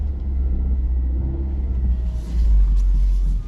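A car on a Sheffield street manoeuvring in a three-point turn: steady low engine rumble close by, swelling slightly as it pulls away, with no talk over it.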